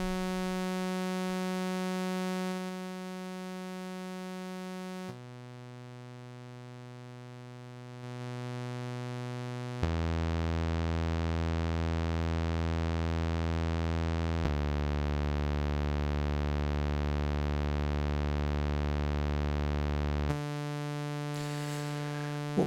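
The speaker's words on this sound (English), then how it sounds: "Let's swap these sine for a saws, which is nice and rich in harmonics." Bright, harmonic-rich sawtooth oscillator tones from the Mixtikl synthesizer, sustained notes shifting pitch in several steps, loud and steady with no talking.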